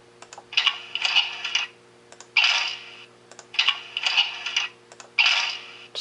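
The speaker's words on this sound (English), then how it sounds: "Here is a door sound effect." Model train door sound effect from an ESU LokSound v4.0 Pioneer Zephyr sound file, four hissing bursts of air separated by short clicks and knocks, evenly spaced, over a faint steady hum.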